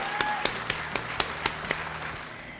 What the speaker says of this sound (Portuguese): muitos e muitos aplausos para a doutora Fernanda Gomes